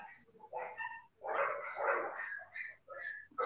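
A dog barks outside in a series of yips and barks with short gaps between them, at moderate distance and fairly faint, with some faint talk mixed in.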